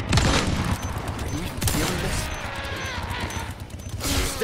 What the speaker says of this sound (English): only 2 shots with the hand cannon to defeat the Chainsaw Ganado.